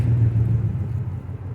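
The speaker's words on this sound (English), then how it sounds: "Just a Texas truck." A truck passes along a town street in Henderson, East Texas, its deep engine rumble loud and close at first, then steadily fading as it moves away.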